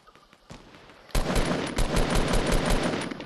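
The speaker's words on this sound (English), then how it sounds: "They got shooting in behind them." Video game gunfire: a single shot, then a sustained burst of rapid automatic fire with sharp repeated cracks, loud and close, with no talking over it.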